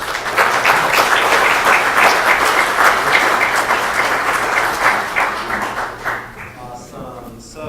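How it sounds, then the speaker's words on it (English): An audience claps loudly and steadily for city council candidates at a Maricopa, Arizona forum, the applause fading out over the last second or two. "can we have another round of applause for our great candidates up here?"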